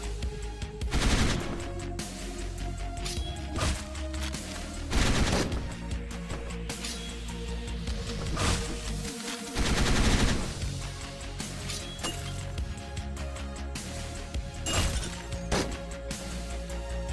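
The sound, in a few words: rifle enemies firing guns in Hotline Miami 2 video game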